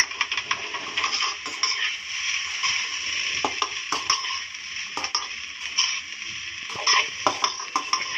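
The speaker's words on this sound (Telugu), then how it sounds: "ఇప్పుడు మళ్ళీ మిక్స్ చేసుకోవాలండి" Egg fried rice, with fresh coriander and mint added, is stirred in a metal pan, giving a clinking, scraping rhythm of spatula strikes against the pan over a steady sizzling hiss.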